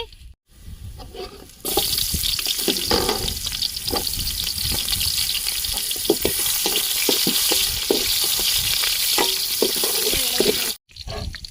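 Ginger, garlic and onion fry in hot oil in a pan for a mutton tripe curry, a steady loud sizzle that starts after a brief quieter moment, with scattered stirring clinks and scrapes and a short gap near the end.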